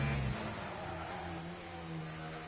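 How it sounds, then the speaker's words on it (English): An Alpine race car in a racing video game whines at a thin, buzzing pitch in a steady drone, heard fairly quietly throughout. "Oh, that Alpine, the sound."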